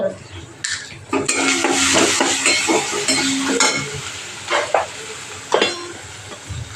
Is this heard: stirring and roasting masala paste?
yes